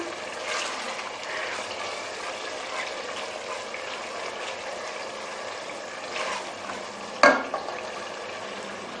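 Keema, minced meat for biryani, sizzles and fries steadily in a pan, with a continuous close crackle, faint stirring scrapes, and one sharp knock near the end.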